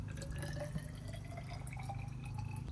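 Distilled water poured into a beaker of dilute acetic acid solution in a home chemistry setup, a steady close liquid trickle with dripping and splashing throughout, no talking.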